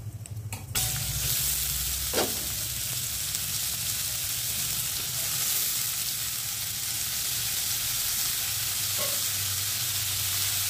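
Vegetables fry in hot oil with nigella seeds and dry red chillies in a home kitchen, giving a loud, steady sizzle throughout, with a couple of brief utensil clinks.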